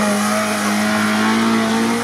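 A Lada Niva off-road car drives past under load, its engine droning loudly and steadily with a sustained revving tone close by, no speech over it.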